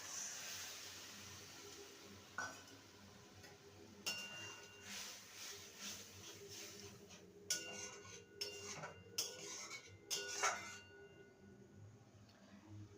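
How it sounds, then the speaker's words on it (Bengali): Boiled chana dal with its water being added to spiced masala in a cooking pot, heard as faint scattered clinks and scrapes of a spoon against the pot with a low background hiss and no talking. "এবারে সেদ্ধ করা ছোলার ডালটা দিয়ে দেবো জল সমেত"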